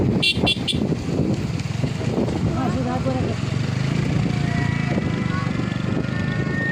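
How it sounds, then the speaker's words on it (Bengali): Riding in an auto rickshaw through traffic near the Bhanga roundabout in Faridpur, Bangladesh: a steady engine rumble with car horns tooting nearby and a person talking throughout. "সেখান থেকে আমরা অটো রিক্সা করে আমরা যাচ্ছি"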